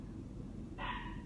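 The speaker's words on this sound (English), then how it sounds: "there's a dog out there" A dog barks once outside, a single short, moderately loud yelp over a steady low background rumble.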